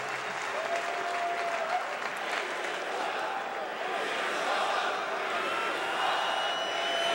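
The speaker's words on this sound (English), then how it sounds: "An enthusiastic crowd on hand at Taylor Field tonight." At Taylor Field, a night CFL game between the Saskatchewan Roughriders and BC Lions has a large football crowd clapping and cheering in a continuous, slightly distant roar, with a faint broadcast voice beneath it.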